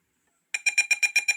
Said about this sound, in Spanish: Vemos que acá el buzzer se está activando, tiene un nivel del tono, y vemos que aquí nos está enviando una señal de alarma.